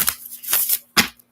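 Three quick riffling bursts of tarot cards being shuffled up close, crisp and papery, with short gaps between them.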